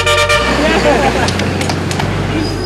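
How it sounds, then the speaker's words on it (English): Car horns honk loudly and repeatedly amid dense street traffic in a narrow industrial district of a Vietnamese city, with long overlapping toots layered over engine noise and people talking nearby. "Come on, everybody, keep honking."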